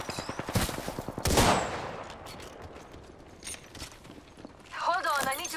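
Gunfire in the battle game Apex Legends, with bursts of shots and impacts in the first half, then quieter rattles and a chirping effect near the end.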